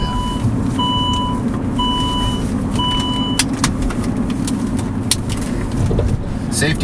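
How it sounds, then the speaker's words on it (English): A 2007 Saab 9-3 with about 150,000 miles rolls along with a steady broadband road and tire roar, while a repeating electronic beep chimes over it and a few brief clicks break through near the end. "So yeah, I hear a little bit of tire noise. Definitely got some tire noise."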